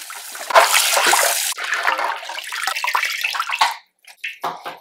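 Water from a tap runs hard over crappie fillets being rinsed in a sink, a loud continuous splashing rush that briefly drops, then resumes with splattering before cutting off.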